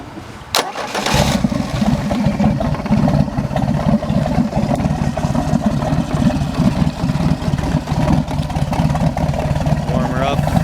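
A Mercruiser 3.0 140 HP Alpha I boat engine mounted on a pallet cranks and fires up, then settles into a steady, loud, smooth running drone that continues to the end.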